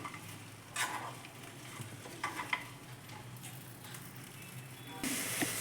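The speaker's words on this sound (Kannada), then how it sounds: "ಸ್ವಲ್ಪ ಎಣ್ಣೆ ಹಾಕ್ಕೊಂಡು ಸಣ್ಣ ಉರಿಲೇ ಚೆನ್ನಾಗಿ ಹುರಿಬೇಕು. ಇವನ್ನ ಬೆಂಡೆಕಾಯಿನ ಹುರ್ಕೋಬೇಕು" Okra frying in a little oil over a low flame, a soft steady sizzle with occasional brief stirring scrapes and a louder hiss near the end, close and without talk.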